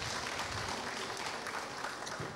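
An audience at a university forum on caning, gathered for a three-member panel, claps in a dense, steady burst of applause that is faint and distant, with no voices over it.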